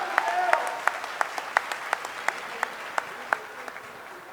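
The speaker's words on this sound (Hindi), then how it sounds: "एक बार दोनों हाथ उठाकर जोरदार तालियां बजाकर स्वागत" Audience applause welcoming a poet at a patriotic poetry recital, sustained clapping at moderate distance with a few sharp individual claps standing out, and a faint voice under it.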